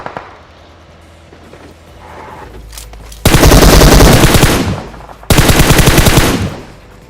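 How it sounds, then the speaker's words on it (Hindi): Gunfire in the PUBG Mobile video game comes as two loud bursts of rapid automatic fire, each lasting about two seconds, after a quieter stretch of background sound. "पर अभी यहाँ पे हमें गोलियां चलने की आवाज आ रही है"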